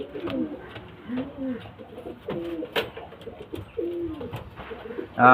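Madrasi pigeons coo close by in a loft, giving a series of soft, rolling coos one after another with a brief flutter at the end.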